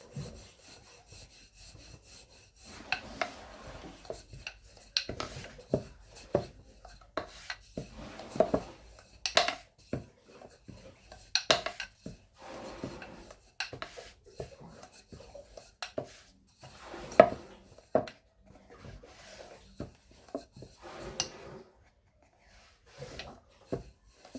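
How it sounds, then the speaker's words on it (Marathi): A rolling pin works puran poli flatbread dough for Holi, making a long run of quiet rubbing strokes and light wooden clicks and taps with uneven pauses, close by and without talking. "हे आपण मस्त म्हणजे पुरणाची पोळी लाटून घेत आहोत."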